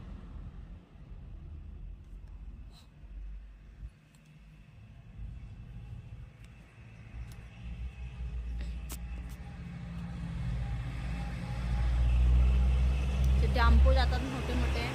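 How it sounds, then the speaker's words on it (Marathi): A state transport (ST) bus pulls into a Konkan village: a low engine rumble builds steadily and grows loud and close near the end, with faint voices in the background. "आले आमच्या गावाकडचे हे 2चे एसटी आले"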